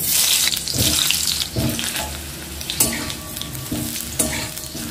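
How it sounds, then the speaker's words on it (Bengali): Potatoes frying in hot mustard oil in a kadai, a loud close crackling sizzle broken by several sharp knocks and scrapes of a spatula, with no one talking. "প্রথমে আমি আলুগুলো ভেজে নেব।"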